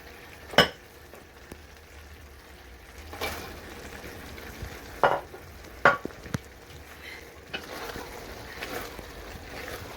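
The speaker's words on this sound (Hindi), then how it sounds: "अब इसमें हम प्याज डालेंगे।" Onions go into a hot pan and are stirred and fried, with a soft steady sizzle broken by several sharp scraping and clattering stirs, fairly quiet and close with no talk.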